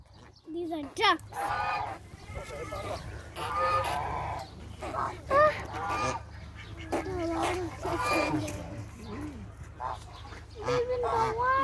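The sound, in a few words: ducks at a farm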